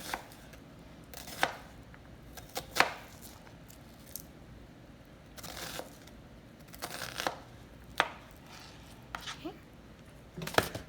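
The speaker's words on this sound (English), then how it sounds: "they always say when you hear that chopping of the board" Onions chopped with a knife on a cutting board in a home kitchen: sharp, close knocks come singly and in quick pairs at an uneven pace over a quiet room.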